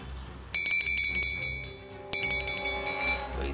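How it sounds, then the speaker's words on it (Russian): A small metal summoning bell from a Bloodborne Nightmare Edition collector's set rings in two bursts of rapid, bright jingling strikes, close and loud, each burst followed by a ringing decay in an otherwise quiet room. "В игре, насколько я знаю, колокольчик используется для призыва хороших или плохих фантомов."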